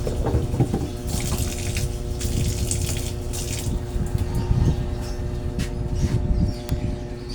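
Water runs steadily from a tap, splashing and gurgling as moringa leaves are rinsed beneath it, close and continuous with no talking.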